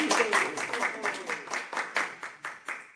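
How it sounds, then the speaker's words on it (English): A small audience at a neighborhood board meeting claps in a burst of applause, individual claps distinct and rhythmic, gradually thinning out toward the end. "So thank you for the applause"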